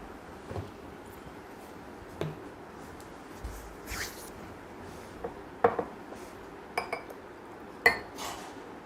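Drinking glasses clink and knock as they are handled and set down during a water demonstration, giving scattered light taps and chinks at close range in an otherwise quiet room.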